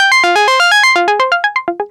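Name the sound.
Moog Subsequent 37 synthesizer preset with effects in Ableton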